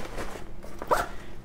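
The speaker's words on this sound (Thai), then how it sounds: "เป็นซิปเฉียงเพราะว่าต้องการให้ดึงมือเดียวถนัดนะครับแบบนี้นะเปิดปิดมือเดียวได้" A diagonal zipper on the front pocket of a Gregory LZ Rucksack Spear series travel backpack is pulled open and shut, giving a close, fairly soft rasp with a brief brighter pull near the middle.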